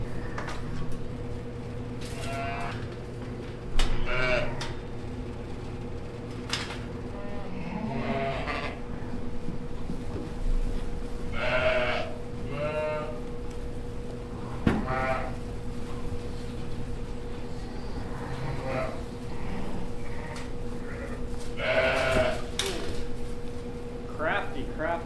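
Newborn lambs bleat repeatedly in a sheep barn where new pens are being set up, high wavering cries coming from several animals at varying distances over a steady background hum, with occasional clanks of metal panels.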